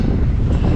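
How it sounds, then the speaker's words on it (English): Strong outdoor wind blowing steadily, a loud rumbling roar buffeting the microphone in a brief burst with no voices. "that wind is crazy."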